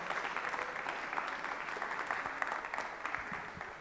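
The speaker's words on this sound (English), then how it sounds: "A big clap for him, please." An audience claps steadily at an event in Les Halles Saint Géry, Brussels, a dense patter of many hands heard from a moderate distance, continuing without a break.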